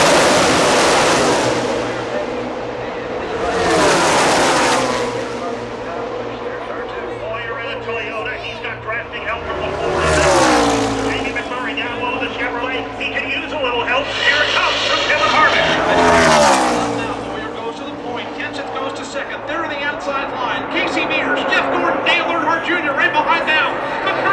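NASCAR race cars at Talladega during the 2012 Good Sam 500 roar past the stands in loud swelling packs, each pass rising and fading, heard from the grandstand with a race announcer talking throughout.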